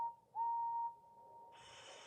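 A steam locomotive whistle sounds at a station in a children's animated railway story, a single steady tonal blast of about half a second, clear and fairly close, followed by quieter hissing.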